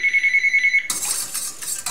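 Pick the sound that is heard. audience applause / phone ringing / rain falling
phone ringing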